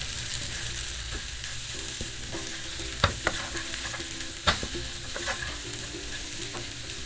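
Bellary chicken with chillies is stirred in a hot pan: a continuous sizzle broken by a few sharp spoon scrapes and clanks against the metal, close up, with no talking.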